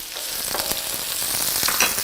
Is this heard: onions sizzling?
yes